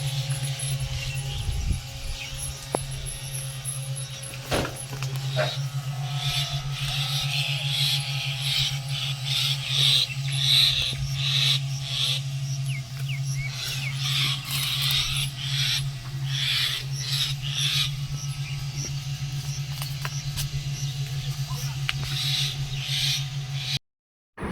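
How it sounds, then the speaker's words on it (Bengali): Birds around a house raise shrill alarm chatter where a snake has appeared, with bursts of sharp, repeated cries and chirps over a steady low electrical hum, with no one talking. "পাখি চিল্লাচিল্লি করছে মানে এখানে সাপ বেরোবেই"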